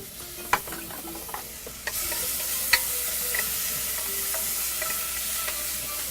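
Garlic and lobster sizzle steadily in a hot pan, a continuous broadband hiss with occasional sharp pops and a few clicks of utensils against the pan, close and fairly loud with no talking.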